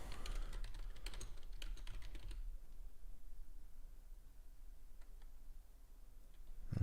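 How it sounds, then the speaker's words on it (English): Quick bursts of typing on a computer keyboard, a flurry of clicks at first then sparser taps, quiet and close with faint background hum. "if you hear typing, you're not hearing things."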